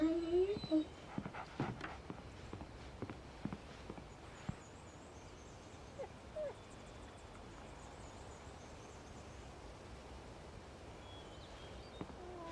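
Dog whimpers and soft footsteps in the video game Alan Wake, a cluster of brief whines and steps early on, fading into low background ambience with faint talking.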